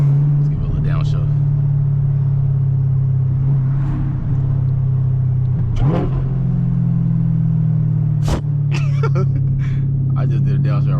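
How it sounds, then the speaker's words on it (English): A supercharged Chevrolet Camaro ZL1 rumbles loudly from inside the cabin, holding a deep steady engine tone with a brief rev blip during a downshift, while people talk over it on an evening drive around a campus. "Let's give it a little downshift."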